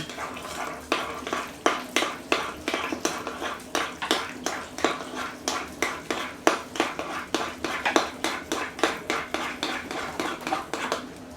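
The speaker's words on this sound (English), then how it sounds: "mix together the jelly and the jam" A spoon clinks and scrapes rhythmically against a bowl while jelly and jam are mixed together for Jammie Dodger biscuits, with steady repeated strokes close up and no talk.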